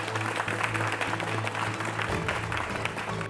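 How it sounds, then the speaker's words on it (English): Audience applause greets a guest at The Debaters 2019 final, a sustained even patter of clapping with a low hum underneath, moderately faint. "Please give a round of applause for Mr. Uli Wagner"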